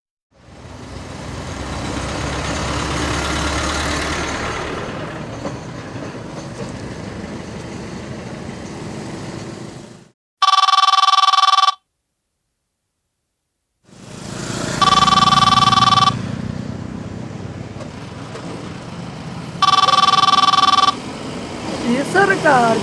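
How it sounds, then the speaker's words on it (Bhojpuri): A phone rings in repeated electronic bursts with short gaps between them, inside a stopped car in a police drama, over a steady engine rumble and some nearby voices. "देखो किसका फोन आ रहा है, गनगना रहा है तब से।"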